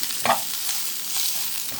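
Taro frying in a pan, a soft, steady sizzle close by with a few faint stirring scrapes, quiet and without voices.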